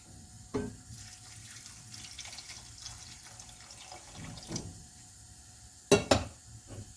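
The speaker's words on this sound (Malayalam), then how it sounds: "നേക്ക വെള്ളം ഒഴിച്ച് കൊടുക്കുകയാണ്." Water pours into a pot of chopped beetroot for a carrot and beetroot squash, a soft steady running-water sound with a few louder splashes and clanks near the end; no one speaks.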